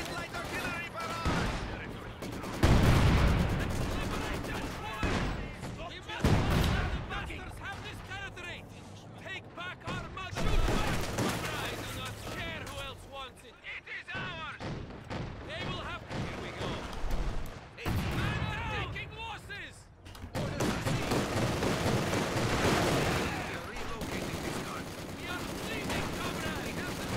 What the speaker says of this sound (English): Target light artillery barrage!